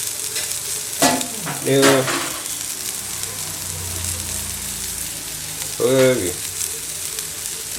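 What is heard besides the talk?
soya chunks sizzling while frying in a pan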